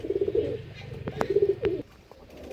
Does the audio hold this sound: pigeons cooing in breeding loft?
yes